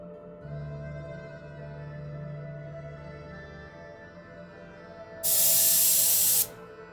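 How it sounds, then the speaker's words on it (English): A short burst of steady, bright hiss from an air compressor spray setup painting armor, about a second long and fairly loud, cutting off abruptly after a quieter stretch of low hum and background noise. "I wonder if the humidity is screwing up my air compressor."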